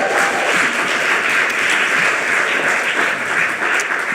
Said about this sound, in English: One more round of applause for Gina.